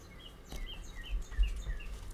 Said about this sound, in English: Listen to the birds. I hope you can hear them.